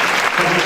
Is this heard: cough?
no